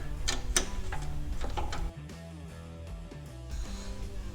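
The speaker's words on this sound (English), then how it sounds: "we can take our ratchet with our 5/16 socket" Close, repeated clicking of a ratchet with a 5/16 socket tightening a muffler clamp on a 2020 Indian Challenger motorcycle, in short bursts with brief pauses between.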